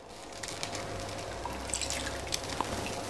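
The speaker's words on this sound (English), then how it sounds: "we're gonna put a roughly about quarter cans of coconut milk" Coconut milk is poured from a can into a pot of water for coconut rice, giving quiet liquid splashes and scattered drips close by, with no talking.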